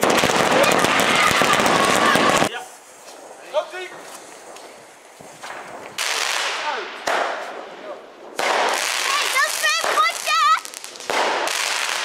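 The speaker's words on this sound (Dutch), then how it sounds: "Fields of Fire. 100 schoten van Vechtwilde. Een dikke compound box aan elkaar doorgelond." A Fields of Fire 100-shot compound firework box goes off with a dense, loud barrage of cracks, then continues with rapid crackling bursts while people talk over it.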